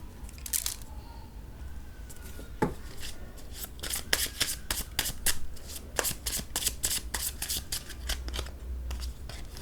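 Tarot cards being shuffled by hand, a steady run of close, crisp riffling and snapping flicks that continues for several seconds with no voice over it.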